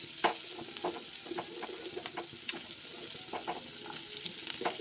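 Carrots and other vegetables go into hot oil seasoned with panch phoron for a Bengali shukto, giving a close, continuous sizzle with repeated scraping stirs of a spatula against the pan.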